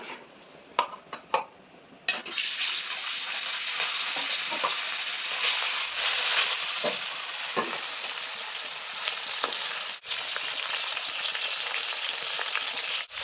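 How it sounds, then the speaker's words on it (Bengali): Silver carp pieces frying in hot oil: a few clinks of utensils open the sound, then a loud, steady, close-up crackling sizzle takes over, with occasional spatula scrapes and pops. "তো ওই তেলের ভিতরে এখন মাছগুলো ভেজে নেব।"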